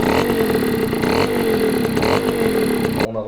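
A small two-stroke Peugeot 103 SP moped engine runs close by, buzzing and revving unevenly with a clutch that does not engage, then cuts off abruptly at the end.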